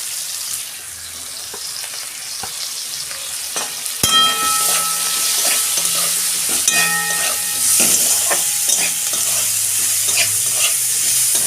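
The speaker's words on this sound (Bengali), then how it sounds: "পেঁয়াজটা আমার ভাজা হয়ে গেছে" Onions and green chillies sizzle steadily in a hot pan, with a clatter of stirring and scraping over the continuous frying hiss.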